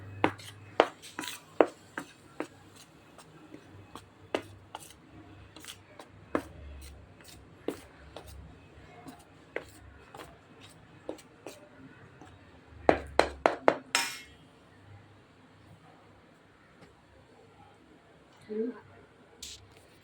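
Karanji flour dough is mixed by hand with ghee, giving soft irregular taps, rubs and squishy knocks against a bowl, with a brief quiet voice partway through.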